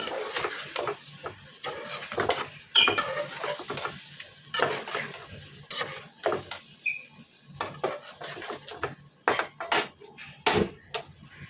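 Whole spices and garlic paste frying in a pot for desi trotters, a low sizzle broken up by frequent clattering stirs and metal scrapes of a spoon against the pot, heard close with no speech.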